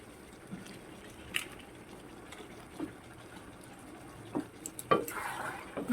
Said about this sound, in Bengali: আরো দু মিনিট কষে নিচ্ছি